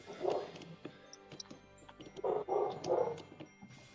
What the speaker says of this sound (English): The neighbor's dogs are barking.